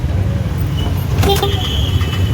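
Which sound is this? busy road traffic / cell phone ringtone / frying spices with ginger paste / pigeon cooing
busy road traffic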